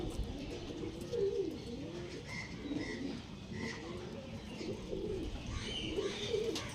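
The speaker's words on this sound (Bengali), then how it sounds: "এগুলো আন্ধ্রা পায়রা ম্যাড্রাস পায়রা" Andhra pigeons coo in low repeated rolling calls, several birds close by, with faint higher chirps mixed in and no talk.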